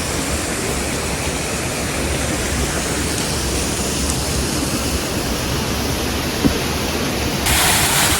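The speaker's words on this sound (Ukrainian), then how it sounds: "Ну от ми дібралися до цього водоспаду, але він такий напівзамерший." Steady, dense roar of a half-frozen waterfall in the Carpathians in winter, constant and enveloping, with no voices.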